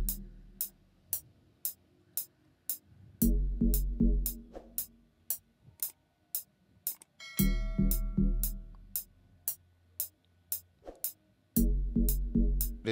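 Synth bass from the Harmless synth, Bit Wobbly AG preset, in an Afrobeats beat: deep wobbly bass phrases come and go under a steady ticking hi-hat pattern, with a bright cymbal-like hit near the middle and no speech.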